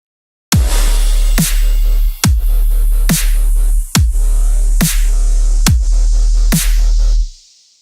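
A heavy brostep bass patch made in the Serum synth plays in loud, distorted, repeated growling notes, roughly eight hits with a sharp attack each, then fades out at the end.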